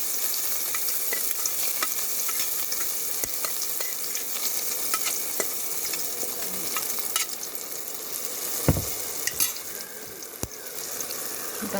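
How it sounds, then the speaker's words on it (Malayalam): Curry leaves crackle and sizzle in hot oil in a pan while being stirred, with steady close frying noise broken by scraping strokes and a few sharper clinks, during tapioca and coconut milk cooking. "കുറച്ച് കറിവേപ്പില ഇത്രയിട്ട് നമുക്ക് നന്നായിട്ടൊന്ന് മൂപ്പിച്ചെടുക്കാം"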